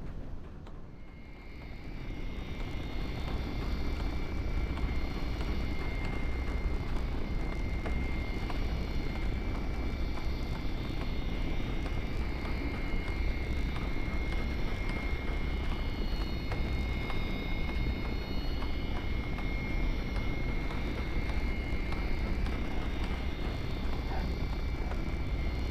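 Small aircraft taxiing in X-Plane 11 near a Cessna row, heard as a steady loud propeller engine drone with a constant whine, unbroken for about twenty-five seconds and without talk.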